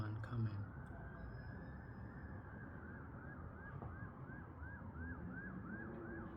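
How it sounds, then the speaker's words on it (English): A fire engine's wailing siren on a city street rises into a rapid repeating yelp, distant but steady, over a constant rumble of traffic and someone talking. "No, that's the fire engine."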